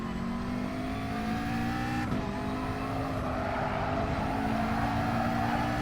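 Race car engine in the Gran Turismo video game, droning steadily at high revs with pitch sweeps as gears shift up and then down, loud and continuous with no talk over it.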